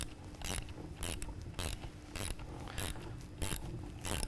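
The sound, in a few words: tightening down bolts on basket weeder end plate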